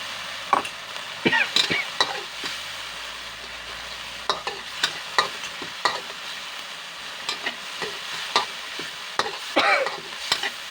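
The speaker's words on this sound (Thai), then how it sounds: "ผัดให้หอมครับ" Pork cracklings with chili and salt are stir-fried in a pan over a steady low sizzle, with sharp intermittent scrapes and knocks of a spatula close by and no talking.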